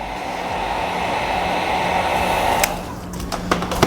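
Heat gun warming vinyl wrap film on the side chrome trim of a 2020-2025 Mercedes-Benz CLA gives a steady airy blowing hum, close and continuous, ending with a few sharp taps and clicks.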